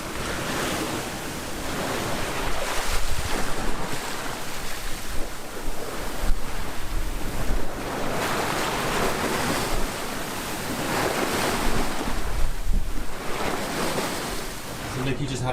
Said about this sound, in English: We're getting a bit bumpy. Yeah, she's riding those waves.